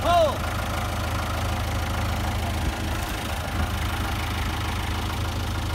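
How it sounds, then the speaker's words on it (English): A tractor engine runs at a steady, low rumble while being used to rip a tree out of the ground, the drone continuous throughout with people talking nearby. "you got to drive a tractor for the first time"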